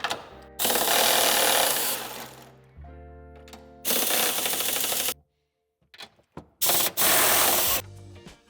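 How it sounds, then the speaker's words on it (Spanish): A ratchet wrench loosens the nuts on the trunk reinforcement bar of a 2021 Mercedes-Benz C-Class W206 sedan, sounding in three long, loud, rapid clicking bursts separated by brief pauses and a few short clicks. "Para desmontar el refuerzo quitaremos las 2 tuercas de la parte exterior"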